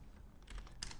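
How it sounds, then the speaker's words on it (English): Quick light keystrokes on a computer keyboard during an After Effects editing session, a brief close burst of soft taps. "alt-clicking on the position, typing wiggle"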